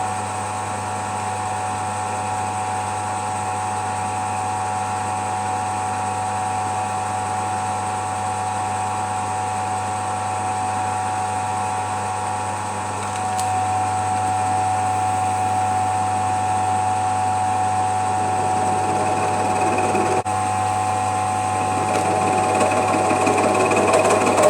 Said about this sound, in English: We'll get that over on the miller machine and we'll mill a hex on that.